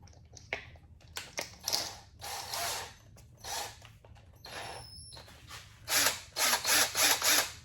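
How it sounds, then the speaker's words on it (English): Drill chuck being tightened by hand for a headlight restoration job: a series of short ratcheting clicks and whirring bursts, irregular at first, then a quicker run of rhythmic turns near the end, close and moderately loud with no talk. "Just put it in there and just tighten the drill down."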